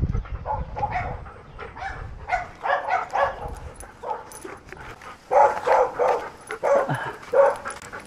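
Several dogs barking, yipping and whimpering outdoors during a walk, in bursts of excited, near barks with brief gaps, fairly loud throughout.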